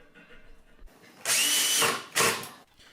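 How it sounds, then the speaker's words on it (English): A power drill drives screws into a light bracket mounted on a ceiling junction box during an Artika LED skylight install, in two loud bursts: a longer whirring run with a rising pitch, then a short second burst. "Tightening the screws allows me to mark the holes without the bracket moving"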